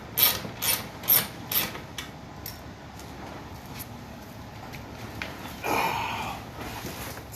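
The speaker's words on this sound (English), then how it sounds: "Go ahead and loosen this bottom one up." A hand ratchet loosening bolts underneath a vehicle, with several sharp clicking bursts in the first two seconds, a few lighter clicks after, and a scraping rattle near the end, with no talking.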